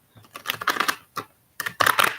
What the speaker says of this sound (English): And clearly I'm shuffling.